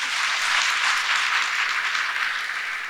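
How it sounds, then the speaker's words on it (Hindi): An audience claps together at a devotional religious gathering, a dense, even wash of applause that holds steady from start to finish with no voices over it. "ऐसे नहीं सुर ताल में बजाओ ताली।"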